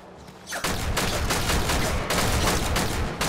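Warframe gunfire, a dense, loud burst of rapid shots that starts abruptly after a brief quiet opening and keeps hammering without a pause to the end.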